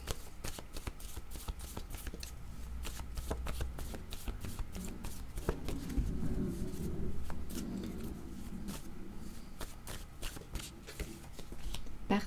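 Tarot cards riffled and shuffled by hand, then drawn one by one, a steady papery flutter with soft slaps running throughout at close range, with a low murmur beneath.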